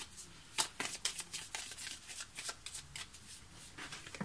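A deck of Tarot de Marseille cards being shuffled by hand, a soft, close run of quick papery riffles and flicks repeating steadily for several seconds.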